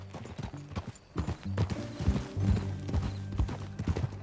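Horse hooves clip-clop in a steady ridden gait within a ranch-themed video game, fairly close, with a brief whinny and faint talk around it.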